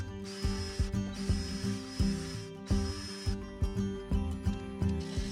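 Faceplate screws being removed from a resin and wood bowl with a ratcheting tool, a steady run of rhythmic clicking strokes, each a short burst of ratchet ticks, fairly close and alone.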